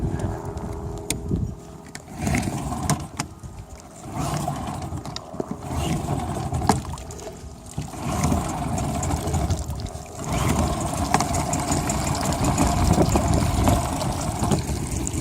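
An 8 hp Mercury outboard motor on a test run at a yacht club, running with a steady, rough, knocking putter and uneven loudness for about fifteen seconds, close by and without talk.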